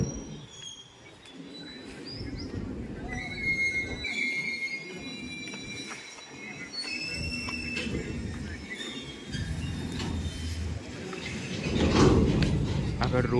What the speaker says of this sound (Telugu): ట్రైన్ అయితే బయలుదేరుతుంది.